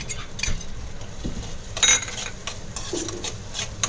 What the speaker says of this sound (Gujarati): હવે ગ્રેવી થઈ ગઈ છે અને હવે નાખું પનીર।